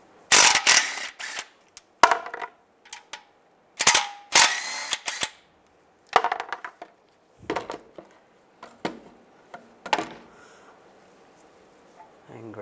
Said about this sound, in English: I'm going to take this nut out and this one using a 13mm socket.